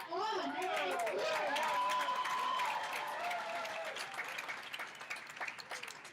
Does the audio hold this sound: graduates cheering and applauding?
yes